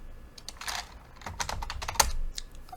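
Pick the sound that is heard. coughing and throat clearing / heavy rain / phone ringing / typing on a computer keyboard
typing on a computer keyboard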